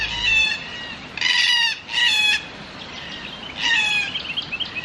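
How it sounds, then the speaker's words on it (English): Birds at Lesmurdie Falls near Perth, Western Australia, give several bright bursts of chirping song in short phrases over quiet outdoor background, fairly close and clear. "Those were beautiful birds."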